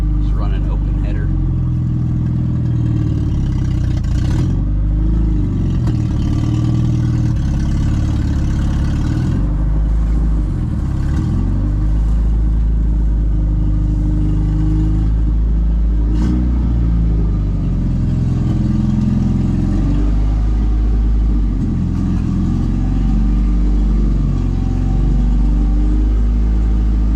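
A 1987 Chevy S-10 pickup engine, started after sitting since 1999, runs with open headers and no exhaust, a loud, raw rumble with repeated revs swelling and dropping back, voices talking over it at points.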